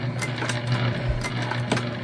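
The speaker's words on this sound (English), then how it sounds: "We are back stitching." A Juki sewing machine back stitching through thick vinyl on a structured bag: a steady mechanical hum with soft rhythmic needle thumps, close and moderately loud, with no speech.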